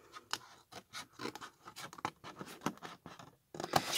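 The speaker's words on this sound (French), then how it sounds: "Là, on coupe de ce côté-là un petit peu en biseau." Scissors snip through paper at an angle while a craft box is being made, a rapid run of close, crisp cuts with short pauses, ending in a louder burst of rustling.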